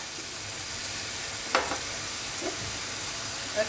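Ridge gourd pieces fry in sesame oil in a pan over medium heat, producing an even, moderate hiss of sizzling with a few light scrapes and clicks of stirring.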